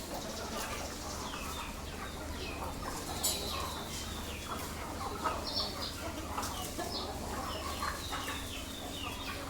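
Chickens cluck steadily while being fed rice, a flock of farm fowl heard at moderate distance over a constant low background hum, with scattered higher calls rising through the mix.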